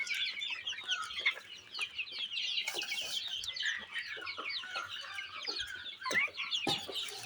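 Roughly a hundred two-month-old desi chickens feeding at midday, a close, busy chorus of overlapping clucks and soft calls with scattered pecking taps, continuous throughout.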